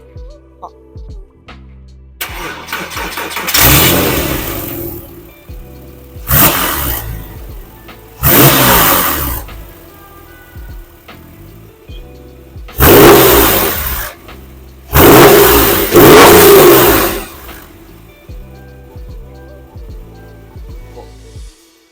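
A Porsche 997 engine starts and is revved repeatedly, with a series of loud, close bursts rising and falling over a low idle between them.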